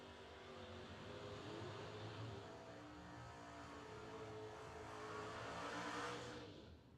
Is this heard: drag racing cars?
yes